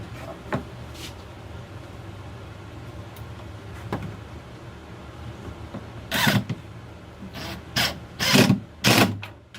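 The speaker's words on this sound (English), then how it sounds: "Now you can hear my screw kind of spin a little bit" A pan head screw, 1 5/8 to 2 inches long, driven through sheetrock into a wall stud by a power driver, heard as several short whirring bursts near the end after mostly quiet background.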